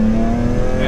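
BMW M3 with the S54 engine driven hard on wet, muddy, leaf-strewn roads, its exhaust giving a loud, steady close-up engine roar with a strong droning tone, with no distinct pops standing out in this short burst.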